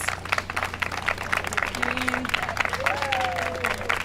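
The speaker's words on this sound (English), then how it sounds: "Can you all just come forward here so everyone can see you and give you a round of applause?" A crowd at a 2017 public meeting about a parklet applauds the volunteer designers: sustained, busy clapping throughout, with voices and a few brief tonal calls rising over it.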